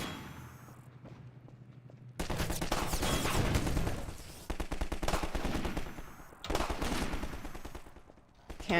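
Automatic gunfire from gunners in the video game Half-Life rattles in dense, sustained bursts after a quieter opening, with a brief lull between volleys.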